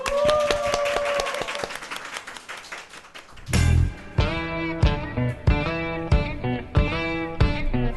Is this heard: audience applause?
yes